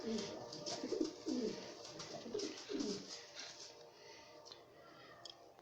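Pigeons coo in soft, repeated low calls near a water drinker, gentle rolling phrases that fade toward the end, heard alone with faint background ambience.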